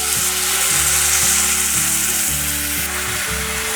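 Potatoes and carrots, browned in a pan, sizzle loudly after filtered water is poured in. The hiss is continuous and close, with faint rhythmic stirring scrapes underneath and no talk.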